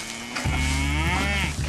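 A cow lets out a single loud, close moo during hand milking, a drawn-out low bellow lasting over a second with no talking.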